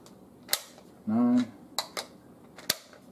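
Sharp clicks of .308 rounds being pressed one at a time into a 10-round P-Mag for a Matrix Arms large-frame AR, with a few distinct snaps and a brief scrape, close and fairly quiet.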